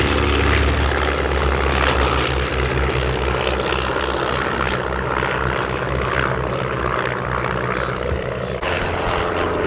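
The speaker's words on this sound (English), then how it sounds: "oh look at that nice little waving pass there" A display team's propeller aircraft sweeps past low at an air festival, its engine drone loud and continuous for several seconds, with faint crowd or commentary voices underneath.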